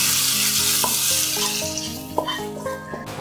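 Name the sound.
mixing egg curry in a pan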